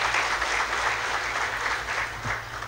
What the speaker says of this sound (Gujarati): નવા ટ્રસ્ટી તરીકે એને તાળીઓથી વધાવી